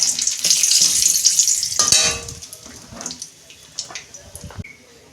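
A bay leaf frying in a little oil in a home kitchen, with a steady sizzle in the first two seconds that drops to faint crackling, broken by clinks and taps from a utensil.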